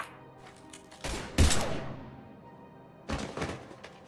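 Bursts of gunfire in the video game Mass Effect 3, a loud volley around the middle followed by a fading tail, then a second shorter burst near the end, with quieter scattered shots between.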